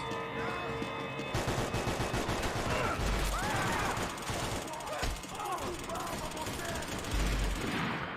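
Rapid gunfire from a weapon in Max Payne 3 multiplayer, a busy run of repeated shots and bursts over constant game noise and music, with a voice talking across it.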